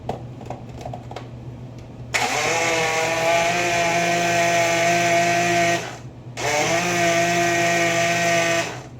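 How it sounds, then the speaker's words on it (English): A motorized blender blending turnip with water whirs loudly at a steady high pitch, cuts out briefly, then starts up again and keeps running. "this is the turnip in the blender with some water"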